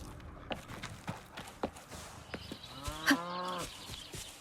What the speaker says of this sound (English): Cow? That's a cow!